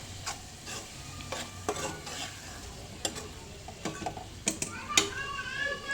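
Aloo tomato curry with chili powder is stirred in a sizzling pan, the spoon scraping and tapping against the metal in short irregular strokes over a low frying hiss.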